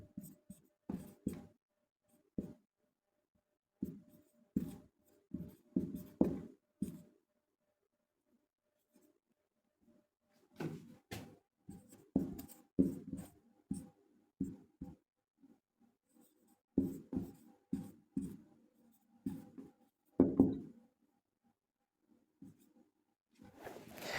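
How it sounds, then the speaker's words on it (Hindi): Pen writing a sentence on paper during a beginner English grammar lesson, with soft, close scratching strokes in irregular bursts and brief pauses between words, no talk over it. "इस वाक्य को हु से लिखना शुरू करते हैं।"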